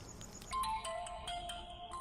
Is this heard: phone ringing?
yes